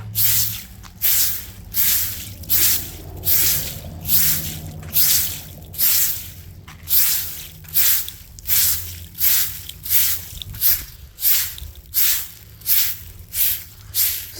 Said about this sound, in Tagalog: Maputik to kaya bubuhusan ko ng tubig.